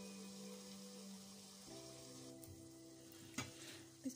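Onions cooking in a covered pan give a soft, steady sizzle that stays quiet and even, with a couple of small clicks near the end.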